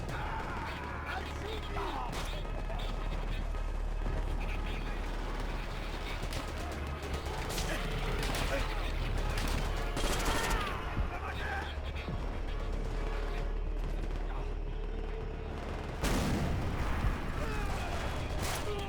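World War Two battle gunfire in Call of Duty: World at War, with repeated sharp shots and bursts of distant and mid-range fire over music and rumbling, while a person talks throughout.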